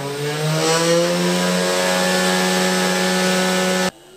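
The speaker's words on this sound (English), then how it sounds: "with this knob you can simply turn on the spindle like so. You can increase the RPMs of this motor" A 3D-printed Dremel CNC spindle motor runs with a loud, steady, close whine whose pitch climbs gradually as the speed increases, then cuts off abruptly near the end.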